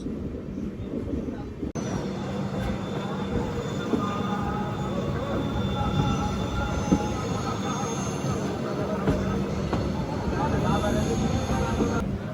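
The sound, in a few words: Satavahana Superfast Express train with LHB coaches taking a turn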